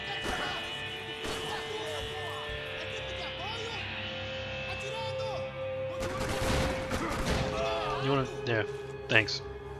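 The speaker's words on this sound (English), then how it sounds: "We are shooting up a police station in Brazil because apparently every single cop is bad." Gunfire in the video game Max Payne 3 during a shootout in a Brazilian police station: bursts of rapid shots and crashing impacts under game music and someone talking over it, heaviest near the end.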